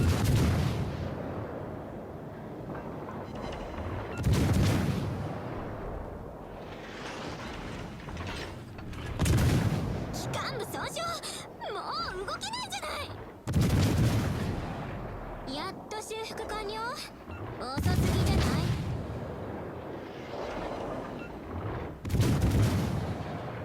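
A KMS Weimar warship fires its main guns in WoWs Legends: about five heavy booming salvos come at spaced intervals, loud and deep, with someone talking between and over them.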